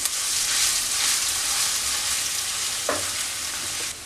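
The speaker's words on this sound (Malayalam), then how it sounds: "അതിലേക്ക് ഒരു ടേബിൾ സ്പൂൺ ഇഞ്ചി ചതച്ചത്, ഒരു ടേബിൾ സ്പൂൺ വെളുത്തുള്ളി ചതച്ചത്, ഇതൊന്ന് ചെറുതായിട്ടൊന്ന് മൂപ്പിച്ചെടുക്കണം" Crushed ginger and garlic frying in hot oil, a bright continuous close sizzle with a single sharp utensil scrape near the end, no voices.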